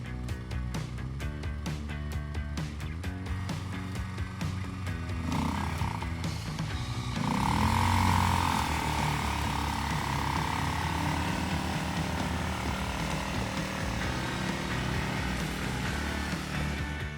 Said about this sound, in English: I am able to escape from rut just on my own